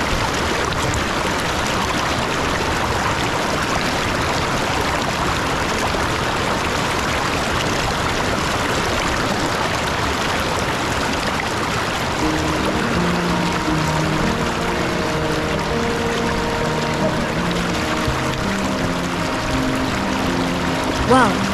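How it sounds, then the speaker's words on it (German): A mountain stream rushes steadily as hikers cross it, a broad continuous watery wash filling the scene from start to finish at an even, close level, with tonal bursts appearing in the latter half. "Irgendwann müssen wir den Bach überqueren, an dem wir den ganzen Tag entlang gelaufen sind."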